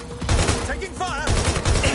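Gunfire in Watch Dogs: Legion, dense bursts of shots crackling steadily through the whole stretch, mixed with game music and sweeping synth tones, with a voice shouting over the battle.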